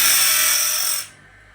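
Sawmill band blade teeth being resharpened: a loud, steady, bright grinding whine runs for about a second, then cuts off abruptly, leaving quiet. No voices.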